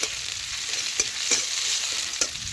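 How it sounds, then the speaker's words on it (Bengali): Chopped onions fry in hot oil with a steady bright sizzle, and a spoon or spatula stirs them in a few soft scraping strokes, close up and with no voices. "পেঁয়াজ এখন একটু নাড়াচাড়া করে তেলের সাথে একটু নরম হয়ে যাওয়া পর্যন্ত ভেজে নেব।"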